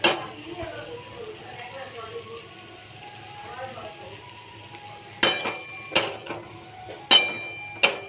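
Cauliflower and potato stirred into a cooked spice paste in a pan, with a low sizzle under a speaking voice, then several loud metallic clanks of the spoon against the pan.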